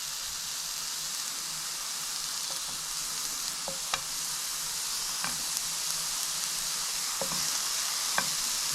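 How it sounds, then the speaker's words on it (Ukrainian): Steady, hissing sizzle of pear searing in a hot pan over low heat, continuous throughout, with occasional faint clicks and pops. "на невеличкому вогні починаємо трішки запечатувати грушу на сковорідці"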